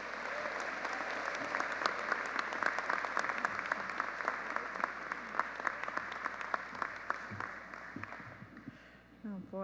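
Sustained audience applause at a Stetson convocation welcoming Dr. Julia Nesheiwat, steady dense clapping from a large crowd throughout, tapering slightly near the end.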